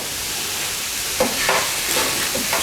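Garam masala and turmeric fry with prawns in a hot curry pan on high heat: a steady loud sizzle, with a few scraping stirs partway through, close by.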